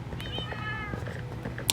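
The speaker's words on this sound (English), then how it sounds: "This house, this cat in particular, is meant to be my childhood cat, Apollo." A cat meows in a video game build world, a short wavering mew at moderate distance over a low background hum, with faint clicks around it.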